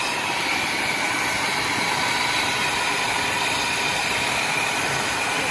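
An RV engine runs loud and close in a steady dense roar with no distinct gaps between throttle blips, a continuous mechanical drone with no talking.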